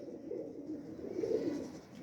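Teddy pigeons coo softly in a low, continuous rolling murmur, close and steady with a slight swell midway, with no voices over it.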